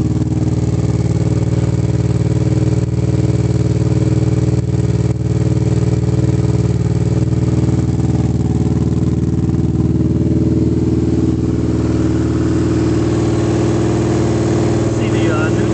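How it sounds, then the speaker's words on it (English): A Honda Hawk GT motorcycle with a Super Trap exhaust idles nearby, a loud, steady, throaty engine note that holds even throughout. "the bike fires right up. Nice throaty roar from the"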